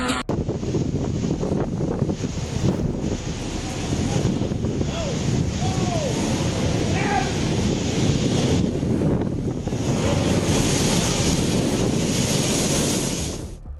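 Hurricane-force storm wind and rough sea during a powerful Mediterranean cyclone over Sicily, a loud continuous roar of gusts buffeting the microphone with surf churning beneath, steady throughout and no talk.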